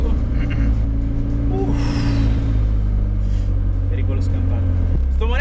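A Ferrari 430 Scuderia engine roars loud and close, its tone climbing steadily under hard acceleration before a brief drop near the end as the revs fall, heard from inside the car.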